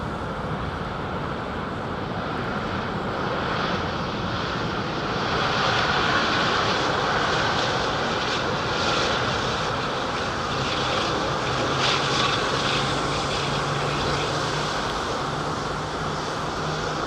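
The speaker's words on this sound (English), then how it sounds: "Sounds like 777 pushing back." Boeing 777 airliner engines running during pushback at London Heathrow, a steady broadband roar with a low hum emerging later, heard continuously from a distance with wind noise and no voices.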